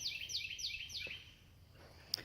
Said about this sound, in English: I love that sound, the birds.